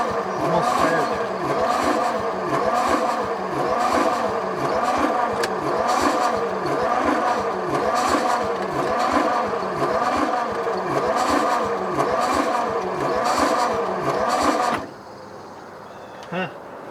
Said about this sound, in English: She's almost gonna start. I can just get it to turn over a bit faster.